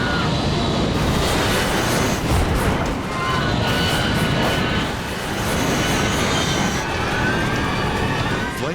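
A passenger airliner running off the runway out of control at over 100 miles an hour, a loud, steady, broadband roar and rumble sustained throughout with little change.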